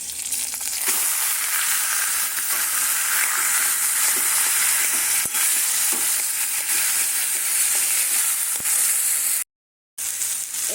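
Taro stems and leaves hit hot oil in a pan, a loud continuous sizzle and frying hiss with occasional stirring scrapes, broken by a brief cut near the end.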